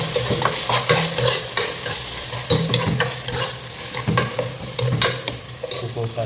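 Tomatoes frying in oil in a pan, a close, steady sizzle broken by repeated scraping stirs and clacks of the spatula.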